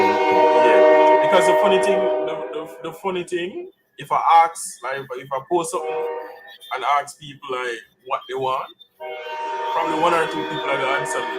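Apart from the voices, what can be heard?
passing train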